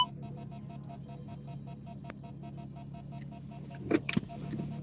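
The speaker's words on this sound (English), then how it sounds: "you're gonna be hearing this beep because the radar of the door is gonna be beeping" A door radar sensor emits a steady, evenly spaced series of beeps at moderate level, continuing alone before a brief clatter near the end.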